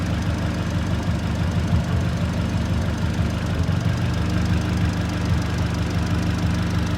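RWD Mk2 Scirocco 1.8T 20v engine ticking over at idle, a loud, close, steady low rumble with an even mechanical pulse running throughout, no voices.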